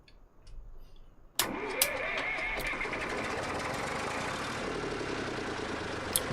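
A tractor engine in Farming Simulator 25 cranks and catches with a sharp start, then settles into a steady, loud running drone with a few clicks on top.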